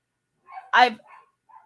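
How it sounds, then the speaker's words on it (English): Dogs bark and yip once nearby, a short loud burst with softer whimpering sounds around it, heard in an indoor setting without speech. "my dogs are going crazy and they're barking right now"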